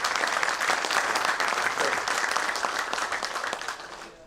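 A workshop audience claps together in a steady, dense round of applause that holds loud and even before tapering off at the close.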